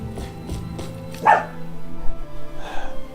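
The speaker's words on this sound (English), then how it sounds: "Sorry about my dog barking in the background." A dog barks in the background, a few sharp barks followed by softer yips and whimpers, heard beneath video game music and sound effects.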